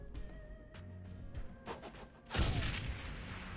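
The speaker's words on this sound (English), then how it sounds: "Grenade." A grenade explodes in the video game Shadowrun: Hong Kong, one sudden loud blast that rings out and rumbles on, after a stretch of quieter game noise and scattered thuds.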